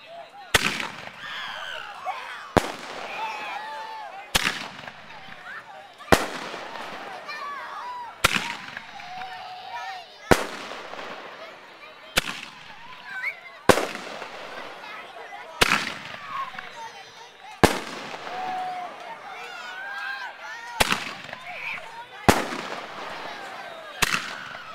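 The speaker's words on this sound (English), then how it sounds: "How about them fireworks?" Big Block V8 fireworks go off in a loud sequence, each sharp bang evenly spaced about every two seconds, with crackling and fizzing between blasts. A person's voice is heard now and then.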